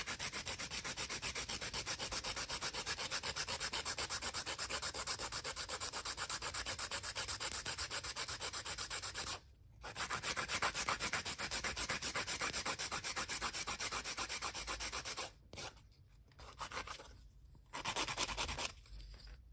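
An 80/80 grit nail file is drawn back and forth across a nail being shaped, a close, continuous rasping scrape in quick even strokes that breaks off briefly near the middle and again toward the end.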